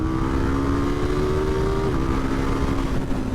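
KTM 990 Duke R motorcycle launching hard at full throttle, a loud, steady engine note rising in pitch, then dropping briefly at a gear change before climbing again, up close with heavy wind rumble.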